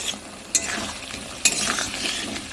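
Taro and egg curry stirred and sautéed in a pan, a close continuous sizzle broken by two sharp metallic clinks of the spatula striking the pan, with soft scraping strokes between them.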